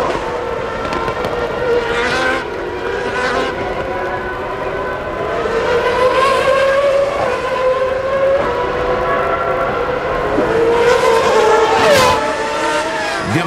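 A Ferrari Formula 1 race car numbered 27 at the 1995 Canadian Grand Prix produces a loud, sustained high engine wail that rises and falls with gear changes, under a crowd and circuit din.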